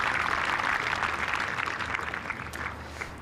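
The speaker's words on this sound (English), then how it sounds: "Deserved applause" Golf spectators around a green break into warm, steady applause for a well-played shot, a broad wash of clapping that stays strong and then slowly thins toward the end.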